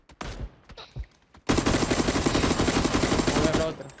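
Gunfire in the PUBG battle royale game, played on Xbox Series X: a few scattered shots at first, then a sustained rapid automatic burst lasting about two seconds, loud and close, ending abruptly.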